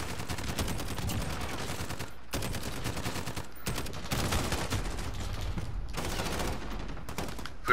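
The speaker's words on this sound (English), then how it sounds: "Whill Wheaton shot me." Dense, continuous gunfire rattles through a Call of Duty: Modern Warfare match, with sustained volleys broken by a few brief gaps, steady and loud throughout, with no voices.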